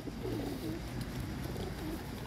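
Pet pigeons cooing softly nearby, a few low, throaty coos over a faint, steady background murmur in a short stretch.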